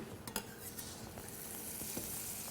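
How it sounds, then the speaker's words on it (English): Butter sizzles steadily in a hot pan before eggs are cooked, a constant crackling hiss with a few light clinks of a utensil stirring, close up. "Now you see that nice sizzle? We know it's hot enough for us."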